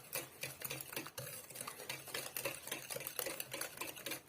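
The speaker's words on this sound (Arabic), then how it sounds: "البيض مع السكر سنيده مزيان، تنسجموا الخليط" Eggs and sugar stirred briskly together in a bowl with a whisk or spoon for orange cookie dough, a quick rhythmic clicking and scraping repeated steadily at close range.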